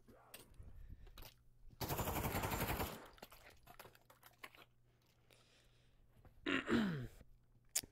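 Gunfire in the zombies mode of Pavlov, a VR shooter: a loud, dense burst of rapid shots lasting about a second, then a quieter stretch and a second, shorter flurry of sharp shots near the end, with no one talking.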